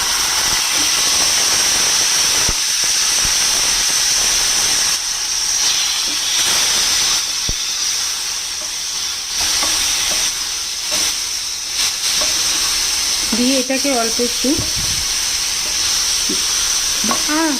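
Boiled hog plums frying with panch phoron in oil: a loud, steady, close hiss and sizzle runs throughout, with faint stirring knocks, while a person speaks briefly over it near the end.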